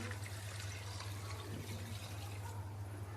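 Water poured from a container into a pressure cooker holding lamb pieces with ginger-garlic paste, red spice and salt, giving a steady, close, continuous splashing wash with a low hum beneath, unbroken for a few seconds.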